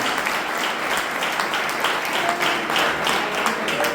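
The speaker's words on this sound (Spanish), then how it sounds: "fuerte aplauso a la gloria del Señor" A church congregation applauds during a Sunday sermon, a steady wash of many hands clapping at once, fairly loud and continuous with no talking over it.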